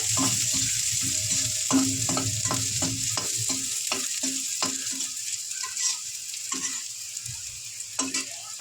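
Chopped garlic frying in oil for dal, a steady sizzle punctuated by a run of quick scraping stirs of a spoon against the pan, close and clear with no talking.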